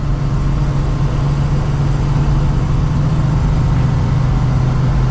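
An old Ford Bronco XLT with a three-speed gearbox pulls away gently in first gear, its engine a steady, loud, even drone that holds level throughout with no voices over it.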